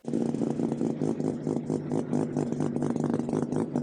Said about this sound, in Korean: 요 엔진 같은 경우는 엔진 소리가 좀 독특해요.